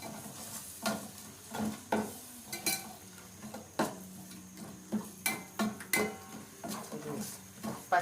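Biryani masala mixture with mint leaves being stirred in a pot, a close series of irregular scraping and clinking spoon strokes against metal over a faint sizzle, with no voices.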